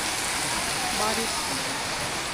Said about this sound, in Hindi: जम के बारिश